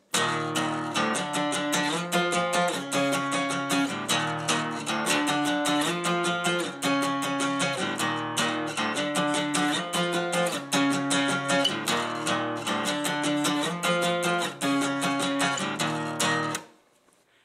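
Acoustic guitar plays a repeating riff of strummed chords and single notes, steady and close, with no voices.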